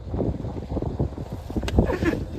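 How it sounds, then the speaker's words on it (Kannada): Boat ride on the Alappuzha backwaters, with a steady low engine and water rumble mixed with buffeting wind noise and a few brief knocks, continuous and fairly loud throughout. "ಬೋಟಲ್ಲಿ ಹೋಗ್ತಿದೀವಿ"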